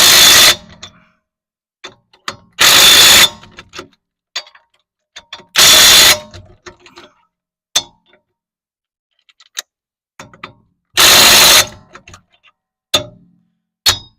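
Lug nuts on a car wheel are tightened with an old lug socket during a flat tire change, a series of sharp, loud ratcheting bursts separated by quiet gaps and scattered clicks.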